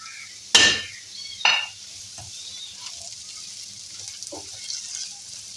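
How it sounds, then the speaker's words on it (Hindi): A medium onion, coarsely chopped, is fried and stirred in a pan. Two sharp utensil scrapes and clatters ring out close up, followed by a faint, steady sizzle with lighter stirring touches. No talking. "इसको भी 2 मिनट फ्राई करूँगी"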